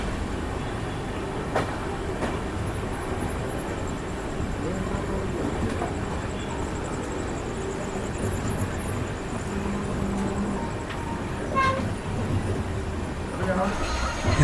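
The Kannur–Yeshwantpur Express pulls out of Shoranur Junction station with a steady close rolling rumble and occasional rattles and clacks, while faint voices murmur underneath.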